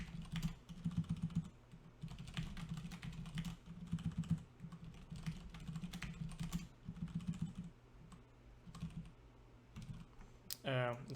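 Rapid computer keyboard typing in bursts of clattering keystrokes with short pauses in between, fairly close and steady, ending with a brief rising electronic tone.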